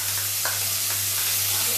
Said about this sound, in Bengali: তো এই রসুনটাই আমি এখানে প্রথমেই দেব। তেলটা আমার অলরেডি গরম হয়ে গেছে।